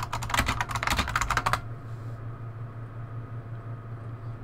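Rapid typing on a computer keyboard, a dense burst of close clicks lasting about a second and a half before stopping, leaving a quiet low hum.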